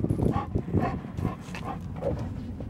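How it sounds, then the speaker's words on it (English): A dog nearby making a string of short yips and soft barks with whimpering in between, fairly faint and close. "I love that dog."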